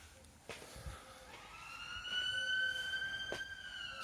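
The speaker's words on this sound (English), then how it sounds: "So now we step inside with a nice police siren in the background." A police siren wails in the background, heard from inside a tent, its rising and falling tones fairly distant but clear over a quiet backdrop, steadily growing a little louder.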